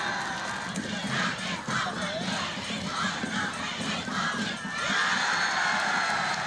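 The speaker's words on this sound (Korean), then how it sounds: "관람자들 속에서는 찬사와 박수갈채가 연방 터져올랐습니다" Spectators at a ssireum wrestling match in Pyongyang cheer and shout in a loud, dense crowd roar that runs steadily throughout, with no clear bursts of clapping.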